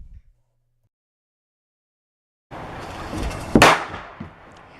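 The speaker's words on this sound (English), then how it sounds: "So here's a control test of a firecracker blowing up a styrofoam plate just strapped to the styrofoam plate." A firecracker strapped to a styrofoam plate explodes with one sharp, loud bang after a long silence, followed by a brief crackling tail and fading noise.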